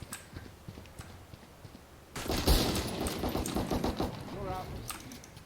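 Rapid bursts of gunfire from a Valorant match in a first-person shooter, quiet at first and then loud and continuous, with sharp repeated shots and clattering over faint talk.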